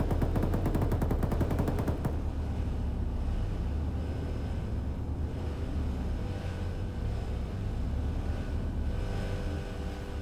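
Machine gun emptying a full magazine in the military game ArmA 3: a rapid, rattling burst of shots for about two seconds, followed by steady, loud engine and vehicle rumble with no talk.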